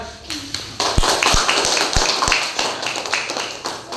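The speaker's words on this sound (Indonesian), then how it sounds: "Yang lebih keras lagi tepuk tangannya." A class claps for a group that has just presented. A few sharp taps come first, then scattered applause that grows, with a teacher's voice speaking over it.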